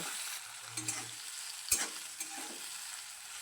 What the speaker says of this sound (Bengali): চেরিটা দেওয়ার পরেও কিছুক্ষণ একটু নেড়ে তেলের মধ্যে ভেজে নেব